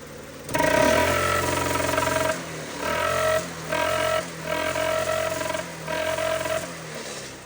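A custom go-kart engine fitted with a trumpet exhaust revs loudly and close up, its blaring, brassy roar rising and falling in about five sustained bursts separated by brief dips.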